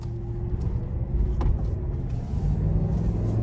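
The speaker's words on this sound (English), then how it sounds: "let's go ahead and take this 2025 Chevy Tahoe LS out on the road for a test drive" A 2025 Chevy Tahoe LS with a V8 and 10-speed automatic cruises on the road, giving a steady low interior rumble of engine and tyre noise, with one brief sharp tick near the middle.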